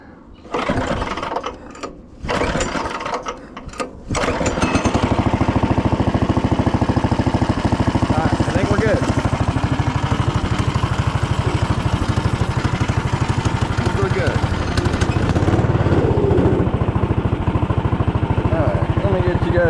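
A go-kart's turbocharged 420cc engine starts after a few short bursts and settles into a loud, steady, buzzing run close by, with a person speaking over it.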